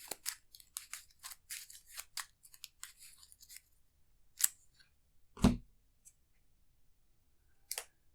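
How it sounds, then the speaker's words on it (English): Cards from an Arkham Horror LCG encounter deck being shuffled on a table, a rapid crisp riffle of clicks and snaps followed by a few isolated card slaps and taps, close and alone. "Shuffle the encounter deck"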